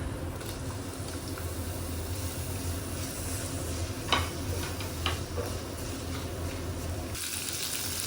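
Onions sautéing in a pan for moru curry, a soft, steady sizzle with a few light clicks and taps of a spoon, fairly quiet throughout.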